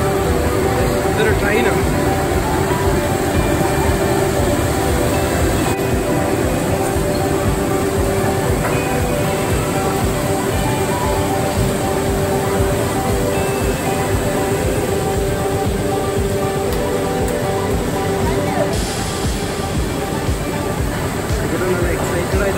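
An amusement park ride train at a digital-light city attraction in Malaysia runs with a loud continuous rumble and rattle of wheels, steady and close for the whole stretch, with voices mixed in.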